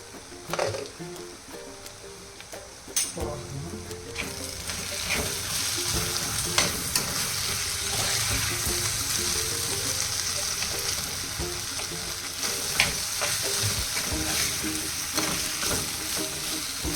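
Sweet potato sizzles steadily in a hot pan while a utensil scrapes and stirs it, close and continuous, with occasional knocks against the pan.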